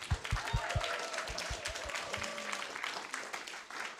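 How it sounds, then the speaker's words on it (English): Applause from a crowd at a hackathon closing ceremony, dense clapping at steady moderate loudness with a few voices faintly underneath. "the same applause goes to expert mentors"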